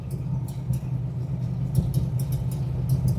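A 1967 Dodge Coronet R/T 440 two-door hardtop on the move: a steady, deep engine rumble with road noise underneath and faint ticking or rattling on top, heard from inside the car.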